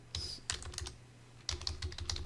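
Close computer keyboard typing while a note is entered into a spreadsheet cell, heard as two quick bursts of clicky keystrokes with a short pause between them.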